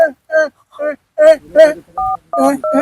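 Telephone keypad tones sound in short steady beeps, a couple of dual-tone presses near the end, interleaved with close speech-like bursts from a person in a comic scene.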